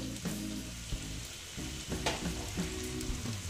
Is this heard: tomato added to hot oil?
yes